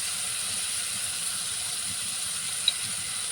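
Pointed gourds hit browned onions and chilies in hot oil and set off a steady hiss of sizzling, moderately loud and continuous, with one small sharp pop near the end and no talking.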